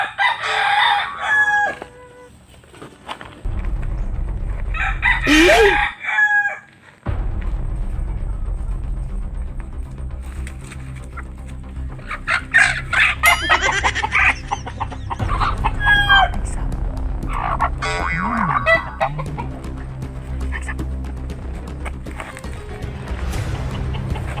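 Chickens cluck and a rooster crows repeatedly, fairly close, over a steady low rumble of background noise.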